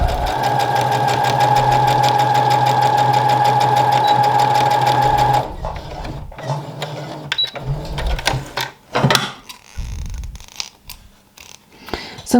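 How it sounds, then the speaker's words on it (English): Sewing machine stitching fabric for a knot headband, a fast steady mechanical whir for about five seconds, then short start-stop bursts of stitching mixed with handling sounds as the fabric is pivoted. "So when your needle gets to that seam, you want to drop your needle, lift your presser foot and pivot it."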